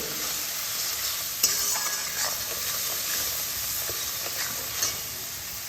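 Chicken sautés in a pan with coriander powder and spices, giving a steady, loud frying hiss with occasional stirring scrapes and clicks.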